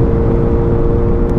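A Yamaha FZ8 motorcycle engine runs at high revs, a loud, dense, steady roar heard up close for a brief moment, with no talk over it.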